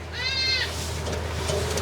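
A young goat kid gives one short, trembling bleat at the start, fairly close, then low farmyard background noise follows on a goat farm.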